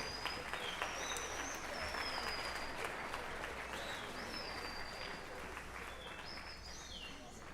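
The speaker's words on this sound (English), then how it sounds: "Nice round of applause for our woodwind trio" Applause for a woodwind trio at a middle school spring band concert, a steady dense wash of clapping from the audience that continues evenly throughout, with faint bird chirps over it.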